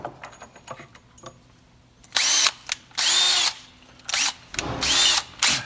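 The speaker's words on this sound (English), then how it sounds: "And drill up those holes and open them up." A power drill with a 3/16 bit whirs in short bursts, a few seconds each with pauses between, opening up holes in wood up close, with faint clicks and handling noises before.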